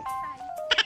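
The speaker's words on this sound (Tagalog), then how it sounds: "Ari mga kambing, oh." Goats bleat close by in a short, quavering call that wavers in pitch, ending in a quick burst of harsher bleats.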